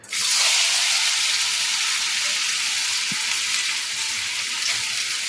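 Papaya, carrot, capsicum, tomato and whole green chillies hit hot oil with a sudden loud burst of sizzling that settles into a steady, bright crackle.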